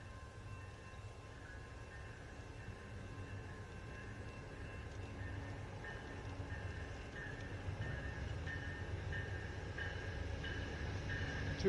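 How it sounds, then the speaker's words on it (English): Amtrak train 89 rolling southbound through Ashland, Virginia, a faint, steady low rumble with a distant whine that slowly builds as the train approaches. "Looks like we got Amtrak 89 coming in southbound."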